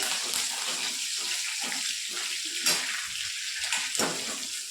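Cumin, curry leaves and chopped green chilli frying in hot oil with mustard seeds in a pan, a steady close hiss and crackle with a few brief pops, no voices.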